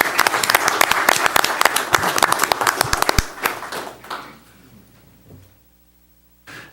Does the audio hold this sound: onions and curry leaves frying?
no